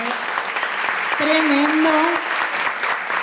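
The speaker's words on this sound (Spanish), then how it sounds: "quiero pedir un aplauso para este panel" Audience members at a panel debate clap for the panelists with scattered, moderately loud claps while a voice speaks over the applause.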